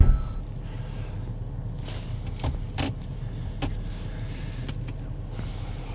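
The doors of a Renault Zoe electric car are locking with several short clicks and mechanical clunks spread over a few seconds. The sounds are close but fairly faint against quiet cabin ambience.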